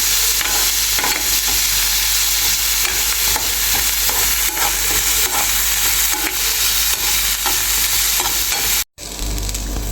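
Dried shrimp and shallots fry in a pan for a chemmeen chammanthi, giving a loud, continuous sizzle with stirring scrapes throughout and a brief cut to silence just before the end.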